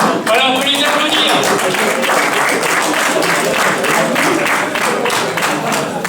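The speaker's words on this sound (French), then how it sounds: "Voilà, on peut les applaudir." Crowd applauding at the podium of a UFOLEP cycling championship in Pasly, Aisne, sustained dense clapping close by with voices talking and a faint whistle early on.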